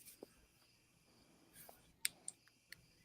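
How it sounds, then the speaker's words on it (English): Crickets at night give faint, sparse chirps against quiet background hiss, a few short sharp bursts scattered across the moment with no voices. "Dane, you need to tell them crickets to shut the fuck up"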